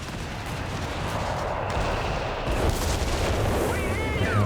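Gunfire and artillery in the real-time strategy game Company of Heroes 3 rumble as a dense, steady battle bed of distant booms and rattling shots, loud and continuous without a break.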